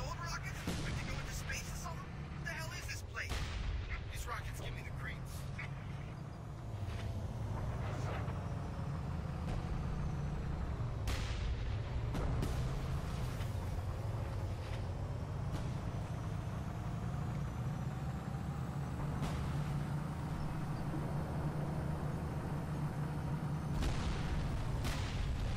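Artillery shelling in the war game Frontlines: Fuel of War, with scattered booms and sharp impacts over a constant rumble of engines and battle noise, as someone talks throughout.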